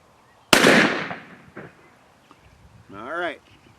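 A single loud shotgun blast fired at a turkey target on an outdoor range at about 28 yards, sharp and close, with the report decaying over about a second, followed by faint shuffling and a brief voice.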